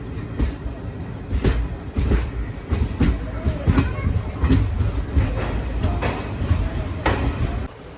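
Jan Shatabdi express train rolling into Kayamkulam Junction, with steady rhythmic clickety-clack of wheels over rail joints and a continuous rumble, loud and close.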